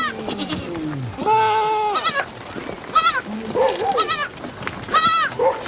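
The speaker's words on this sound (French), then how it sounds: "100 chèvres et 80 moutons, c'est toute sa richesse." A herd of goats and sheep bleats repeatedly at close range, several wavering calls overlapping one another with brief gaps, loud and unaccompanied by talk.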